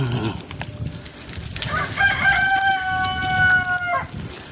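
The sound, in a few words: rooster crowing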